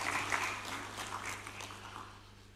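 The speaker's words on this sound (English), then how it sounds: "Let's give a warm applause again." A crowd at a Kenyan presidential address applauds, a soft, distant wash of clapping over a low electrical hum that gradually fades away.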